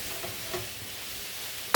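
Shrimp fry in a pan with a faint, low sizzle while a utensil stirs and scrapes the browned fond off the bottom, ending in a short, louder scraping burst.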